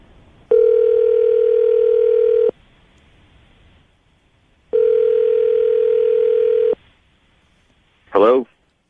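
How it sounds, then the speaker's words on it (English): Telephone dial tone sounding as a number is dialed: two steady, loud, two-second tone bursts separated by quiet gaps, then a short warbling burst at the end. "I'm going to dial the phone number right now and see if we can get him on the phone"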